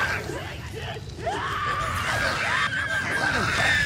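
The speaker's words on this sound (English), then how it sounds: "You hear the screams?" Alien creatures scream in the video game Spore, shrill wavering cries rising and falling over a dense, loud game backdrop.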